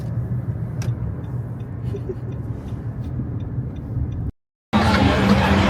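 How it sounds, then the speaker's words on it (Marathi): Car racing arcade video game sounds: a steady engine drone with low rumble and crowd-like babble, loud and continuous, cutting out briefly before returning brighter and noisier near the end. "इकडे नेत्र आता आहाना सोबत खेळते कारचा रेसिंग गेम"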